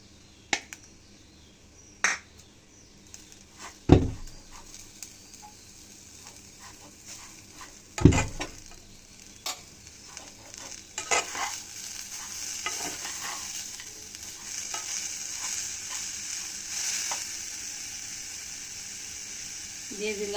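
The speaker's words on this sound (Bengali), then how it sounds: "খুব লো ফ্লেমে আস্তে আস্তে ভাজতে হবে।" Vermicelli (semai) frying slowly in a pan on low flame, soft sizzle with sharp scraping clicks of stirring at intervals, the frying hiss growing steadier toward the end.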